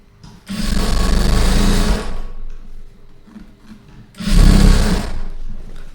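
A sewing machine stitches lining fabric in two loud, close bursts of rapid whirring, each about two seconds long, with a quieter pause between them.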